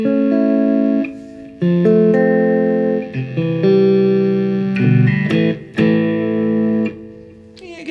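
An electric guitar through a Marshall CODE modelling amplifier with effects plays loud sustained chords and single notes, ringing with distortion and reverb, with brief pauses between phrases.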